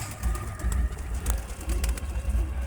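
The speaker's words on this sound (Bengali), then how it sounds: "এটা আবার পাকিস্তানি পায়রা।" A Pakistani pigeon coos in a loft among other pigeons, low soft repeated coos under steady background rustle and murmur, fairly close throughout.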